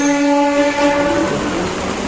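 A Mumbai local train on the Bandra line, loud and close, its horn sounding a sustained tonal blare over the rumble of the carriages amid heavy monsoon rain.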